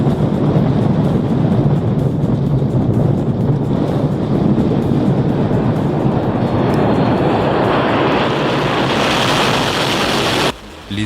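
A loud, roaring military jet engine drones continuously, a dense rushing blast that shifts brighter near the end before cutting off abruptly.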